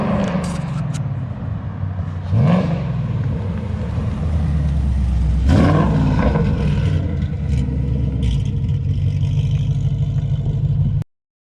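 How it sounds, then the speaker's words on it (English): A Ford Mustang S550 fitted with a Borla ATAK exhaust and headers drives down the street outside, a loud deep exhaust roar with revs that rise and fall, sharp throttle bursts, and then an abrupt cutoff at the end. "So I just had Carlos take it for a little spin down the street. Definitely loud, way louder outside."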